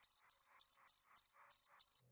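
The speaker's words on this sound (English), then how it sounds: "grasshopper," A grasshopper chirps in seven evenly spaced, rapid pulsing bursts, a thin high-pitched trill repeated at a steady rhythm, close and clear against silence.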